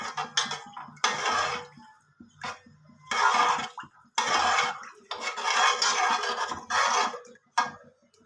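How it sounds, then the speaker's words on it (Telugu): A spoon scrapes and clinks against a metal pot in uneven bursts as raw milk is stirred on the stove for paramannam with jaggery, loud and close, with short pauses between strokes. "ఇలా పాలు పోసేసుకొని ఇలా కలుపుకోవాలి"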